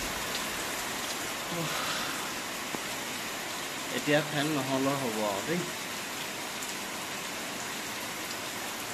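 Steady rain falling at four in the morning in Dhemaji-Lakhimpur after four dry days, a constant soft hiss throughout, with a person speaking briefly in the middle.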